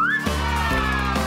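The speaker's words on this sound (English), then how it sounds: "That's a monkey!" Monkey call in a children's cartoon animal sound game, a short excited high-pitched chattering hoot repeated in quick rising bursts, loud and close with no talking over it.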